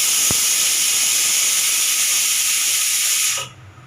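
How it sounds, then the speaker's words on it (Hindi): Pressure cooker whistle while cooking rice on a home stove, a loud continuous high steam hiss that sounds steadily for over three seconds, then stops sharply, leaving quiet background. "और बस चावलों में सीटी भी लगने वाली है"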